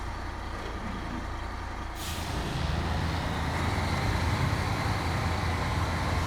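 A truck with its differentials locked starts up a hill: a sharp hiss of air release, then the engine rumble grows louder and heavier as it climbs, close and steady with no talk.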